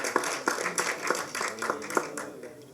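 A small gathering claps in a fairly even rhythm, each hand strike a sharp separate snap, moderately close but not loud, with no voices.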